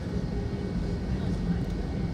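A Southwest Airlines airplane taking off gives a steady, broad engine roar heard from inside another aircraft, filling the short stretch at an even level under faint speech.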